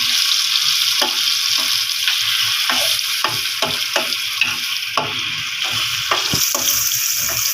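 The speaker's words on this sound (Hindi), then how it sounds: "अब इसे मैं लहसुन में अच्छी तरीके से भूनूंगी।" Mashed eggplant bharta frying in garlic in a pan, a continuous loud sizzle with repeated sharp scrapes and knocks of a spoon stirring it, close up and without talk.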